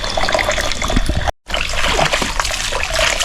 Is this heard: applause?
no